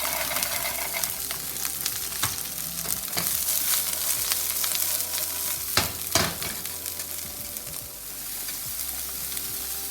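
Carrots frying in a pan sizzle steadily and loudly, with sharp crackles and clicks of stirring or utensils breaking through the constant hiss.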